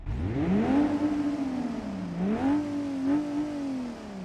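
Car engine and exhaust in BeamNG.drive revving up and down in a few rising and falling sweeps, loud and continuous with no talk over it.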